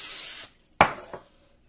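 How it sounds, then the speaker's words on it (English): Short hissing bursts of cooking spray lightly coating a 9x13 baking pan, a longer spritz followed by two quick puffs, close by with quiet pauses between. "I'm going to just lightly spray my pan"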